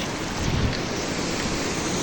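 Waterfall formed by a landslide near Pallivasal, a steady, loud broadband roar of rushing water with wind buffeting the microphone and no voices.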